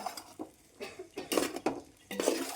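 Chicken biryani is stirred in a pot with a metal spoon, giving several quiet scrapes and clinks against the pot in an irregular rhythm, close by and without talk.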